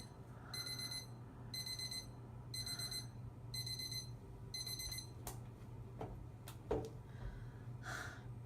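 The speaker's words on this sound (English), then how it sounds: "Why didn't I have an alarm set for then?" An alarm clock goes off in the middle of the night, giving five evenly spaced electronic beeping bursts, then a startled gasp and some breathing in a quiet room.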